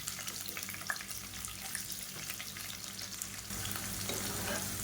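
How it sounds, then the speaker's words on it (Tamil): A soft, steady sizzle of chopped onions frying golden in hot oil, with faint stirring scrapes and crackles, continuous and slightly louder toward the end. "இப்போ வெங்காயம் கோல்டன் கலரில் வதங்கிடுச்சு"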